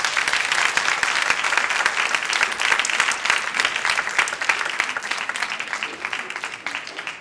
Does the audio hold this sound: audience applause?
yes